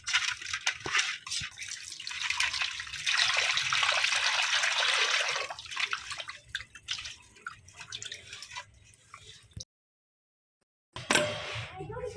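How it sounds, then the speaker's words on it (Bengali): Fish being rinsed by hand under running water, a continuous splashing rush with drips and trickles that fades, cuts to silence, then briefly resumes. "মাছ ধোয়া কমপ্লিট"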